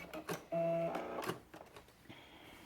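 A sewing machine back stitching at the end of a bodice seam, joining sleeve to bodice front on a Vogue 8825 garment: a short steady mechanical whir of under half a second, then quieter handling noises.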